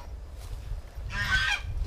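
Several loud geese honk in a burst of harsh, overlapping calls near the end, outdoors on the way back to a family house in Vietnam, over a low rumbling background with no talk.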